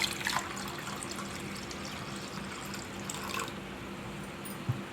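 Water trickles and splashes softly into a vessel of tamarind and mashed tomato for pepper rasam, faint and close, with a steady low hum underneath and no talking.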